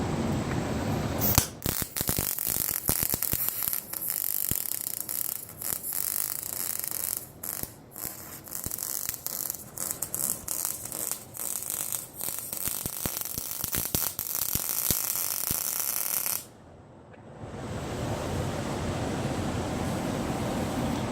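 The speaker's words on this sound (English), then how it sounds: "2 stringers means it's going to have 2 weld beads right across the top." Arc welding a two-stringer cap pass on 2 1/2 inch pipe, a steady crackling, frying hiss with irregular pops close by, stopping briefly near the end before noise resumes.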